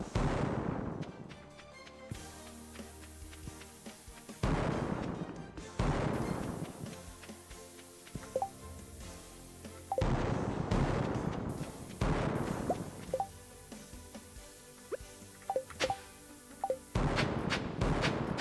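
Cherry bombs and mega bombs go off in a Stardew Valley mine, giving about five loud, booming blasts spread across the stretch, each decaying into a rumble before the next one hits, with no talk.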